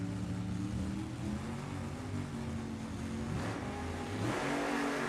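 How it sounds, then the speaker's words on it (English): A nostalgia drag racing car engine at an NHRA event rumbles and revs with rising RPMs, a dense, steady roar that swells slightly toward the end, heard from a distance. "RPMs come up."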